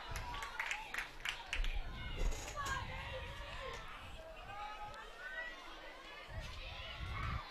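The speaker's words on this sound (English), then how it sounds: "And a great crowd here at Casa Grande Field" A crowd murmurs and chatters in the stands at a varsity field hockey game between Darien and Staples at Casa Grande Field, an FCIAC tournament semifinal, with a steady busy din and scattered brief claps throughout.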